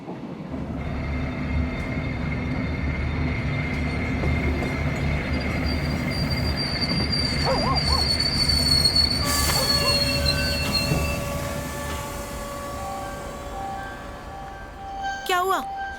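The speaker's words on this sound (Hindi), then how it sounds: "थोड़ी देर ट्रेन रुकेगी यहाँ पे" A train rolls steadily along the rails with a continuous loud rumble, and high metallic wheel squeals rise and fade through it before the noise eases off near the end.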